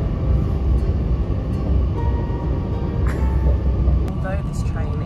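A steady, loud rumble of a jungle train in Malaysia riding along the tracks fills the space, with faint squeals and clatter and a voice speaking over it.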